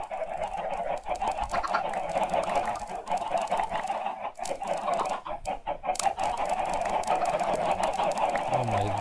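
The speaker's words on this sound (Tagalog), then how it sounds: "Oh my god, ang daming manok." Many Minecraft chickens clucking in a busy overlapping chorus with a rooster-like call among them, continuous and fairly close, no speech.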